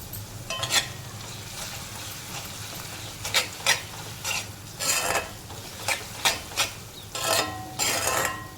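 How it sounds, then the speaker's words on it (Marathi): Chopped onion with ginger garlic paste being stirred and sautéed in hot oil in a pan, with a soft sizzle beneath repeated scraping strokes of a spoon at an irregular rhythm, close and fairly quiet. "कांदा पूर्ण शिजेपर्यंत यायला आपण असं परतवून घ्यायचं आहे."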